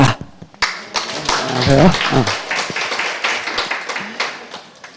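An audience in a real estate exam prep lecture claps, with scattered claps at first swelling into a dense patter while someone speaks a greeting over it.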